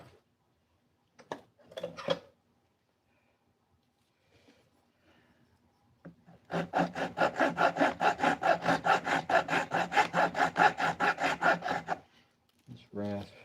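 A rasp shaping a sapele wood sheath makes a run of fast, regular rasping strokes for several seconds, loud and close. It follows a few brief scrapes and a quiet stretch.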